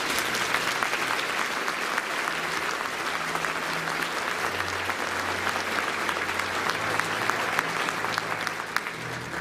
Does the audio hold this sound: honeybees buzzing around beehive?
no